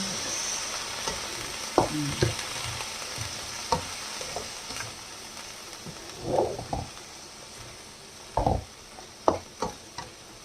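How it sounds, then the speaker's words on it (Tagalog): Long beans (sitaw) frying in a hot pan with a steady sizzle, broken by repeated clanks and scrapes of a spatula stirring them, for a squash and fish dish. "ngayon, ilagay na po natin itong batong natin o long beans"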